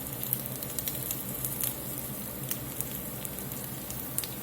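Asparagus sizzles in a hot pan, seasoned with thyme and rosemary, giving a steady, moderate frying hiss with faint crackles and pops scattered throughout, and no talk over it.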